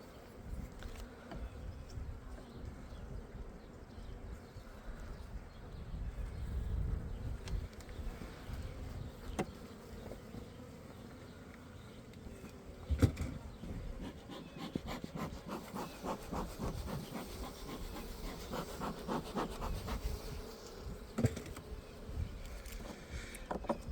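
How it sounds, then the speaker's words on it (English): Honey bees buzz steadily around an open beehive during an inspection, a continuous close drone with individual insects flitting past the microphone. "Oh, here's some bees."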